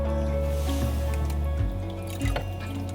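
Water trickles and drips into a pot for a few seconds over a steady low hum, with a couple of small splashy gurgles.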